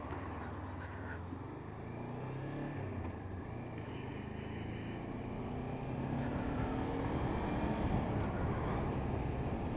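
A Honda CBR 500R motorcycle engine hums under wind noise on a road demo ride, revving gradually higher with a rising pitch in the second half, moderately loud and continuous, with no speech.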